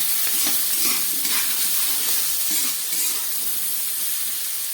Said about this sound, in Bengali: সবজি দিয়ে রান্না করছি শাকটা